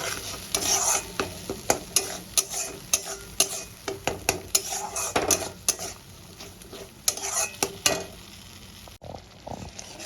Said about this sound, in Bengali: এবার আমি বেটে রাখা শস্য পোস্তর পেস্টটা দিয়ে দেবো, দিয়ে একটু কষিয়ে দেবো।